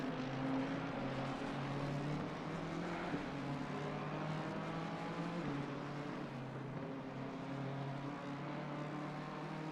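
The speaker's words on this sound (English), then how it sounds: "Can hear the Mercedes just outside of earshot." An AMG Mercedes race car in a 24-hour endurance race gives off a steady, unbroken engine drone with a low hum underneath. It sounds somewhat distant and holds the same loudness throughout, without a sharp pass-by peak.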